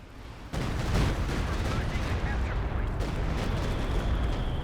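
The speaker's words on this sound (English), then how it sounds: "Stuka Bomb doing a nice barrage" A Stuka dive bomber barrage in the WWII strategy game Company of Heroes 2 sets in abruptly as a dense, continuous roar of explosions and artillery fire, loud and sustained, with a voice talking over it.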